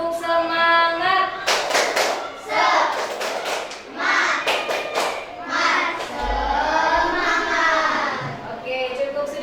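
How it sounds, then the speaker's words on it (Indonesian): A school class does a rhythmic spirit clap in a classroom, with bursts of patterned hand clapping and taps mixed with children chanting along. "Tepuk semangat."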